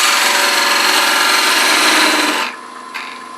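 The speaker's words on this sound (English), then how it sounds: "let's take our parting tool and go ahead and make a pretty good parting cut down to 3/4 of an" A parting tool cuts into wood spinning on a lathe during woodturning, a loud, close, steady scraping rasp that runs for over two seconds, then drops away to the quieter hum of the lathe.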